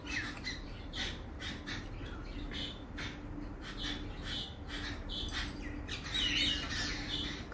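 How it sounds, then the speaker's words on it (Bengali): A flock of small birds in a rural courtyard keeps up a busy, overlapping chorus of squawks and chirps, with one higher whistled call standing out near the end. "কি ডাকাডাকি করতেছে ওরা"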